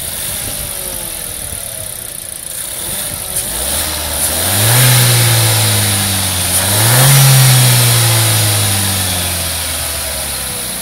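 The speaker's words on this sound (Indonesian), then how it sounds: "Suaranya kayak apa sih dari mesin 1200 cc turbonya?" A Renault Captur's 1200cc turbo engine starts up, settles into a steady idle, then revs twice in smooth rising and falling swells before dropping back to idle, loud and close.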